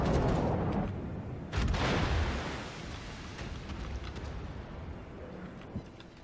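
Naval guns of the battleship Congo firing in a naval combat video game, a heavy booming volley at the start and another about a second and a half later, each trailing off into a long rumbling decay.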